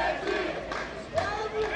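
Traveling Krumkachy supporters from Minsk chant and cheer in a football stadium at Rechitsa, a sustained crowd roar with rising shouts, heard from a distance.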